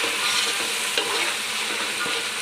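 Mint stirred into a frying rice masala for Telangana-style bagara rice, a steady close hiss of sizzling with soft scraping strokes running throughout the short stretch, no voices.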